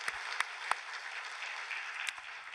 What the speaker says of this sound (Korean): 우리 다시 한번 하나님께 박수를 영광 돌리겠습니다